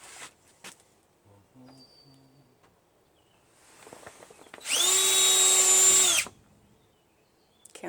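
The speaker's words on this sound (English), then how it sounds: "Countersinking." A power drill countersinks screw holes in wood during assembly: one loud, steady whining burst of about a second and a half, preceded by faint clicks and handling noises in a quiet room.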